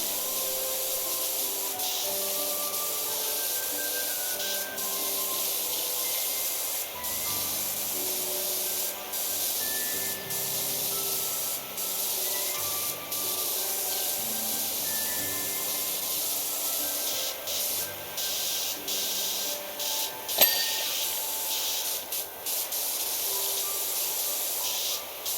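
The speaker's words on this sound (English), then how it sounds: "But I'm spraying it down with water." Steady hissing spray of a pressure washer hosing down a generator in Powerwash Simulator 2, a continuous loud wash running for the whole stretch with small shifts in tone and a brief sharp click near the end.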